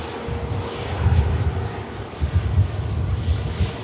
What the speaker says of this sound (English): And the aircraft Ian mentioned.